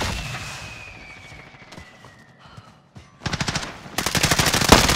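Call of Duty Warzone gunfire: a DMR and other weapons start with a faint fading whine and scattered distant shots, then burst into loud rapid automatic fire that builds into a dense, sustained barrage.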